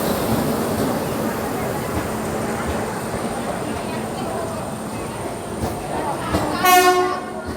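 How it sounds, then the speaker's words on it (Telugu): The Simhadri Express passenger train rumbles steadily at Vijayawada station as people talk nearby, then its horn blasts loudly near the end. "7239 సింహాద్రి ఎక్స్ప్రెస్."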